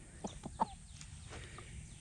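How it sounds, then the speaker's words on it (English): Several chickens clucking nearby in short, scattered bursts, soft and irregular over quiet background. "We did pick up a few more chickens."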